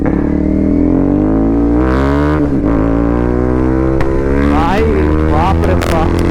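A 250cc motorcycle engine drones loud and close while riding, its steady harmonic roar rising and dipping through throttle changes, with someone talking excitedly over it.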